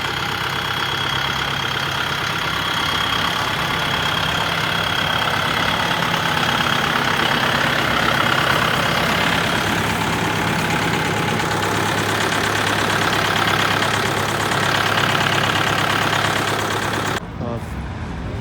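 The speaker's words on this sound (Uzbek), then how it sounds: "Traktorimiz mana keldi. Inshaalloh yo'lga chiqyapti." A new 100-horsepower tractor engine idles nearby with a steady, even rumble and low knocking drone that holds throughout, briefly dipping near the end.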